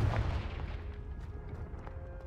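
Confringo fire spell bursting in Hogwarts Legacy, a couple of low booming blasts up front that fade into a softer rumble, fairly quiet overall.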